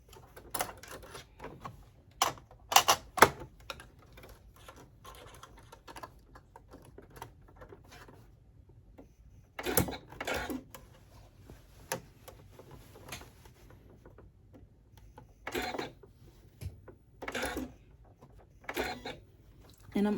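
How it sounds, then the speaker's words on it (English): A sewing machine topstitches along a zipper edge with a zipper foot, running in several short, separate bursts of quick mechanical clatter. Quieter pauses fall between the bursts. "using a zipper foot, go ahead and top stitch this edge as close to your zipper teeth as possible"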